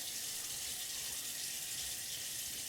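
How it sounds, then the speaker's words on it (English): A safety razor being rinsed under a running bathroom tap, water streaming in a steady even hiss, close and fairly quiet, with no voices. "So you're gonna want to rinse that off"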